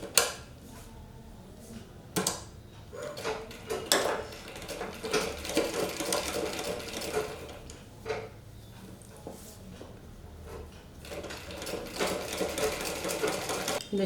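Sewing machine stitching the back panel of a blouse, with bursts of rapid needle chatter broken by brief pauses and handling knocks, close and fairly loud throughout.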